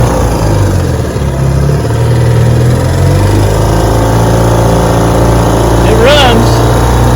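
A 1954 Gale Buccaneer outboard motor with a fuel problem running loud and close, its steady drone rising and falling as it surges in and out, with a brief whistling squeal near the end.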